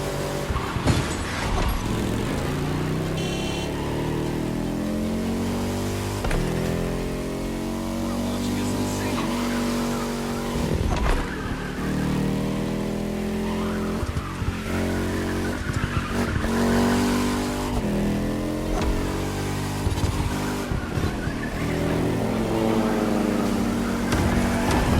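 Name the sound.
Ferrari FXX K supercar driving in the video game Motorfest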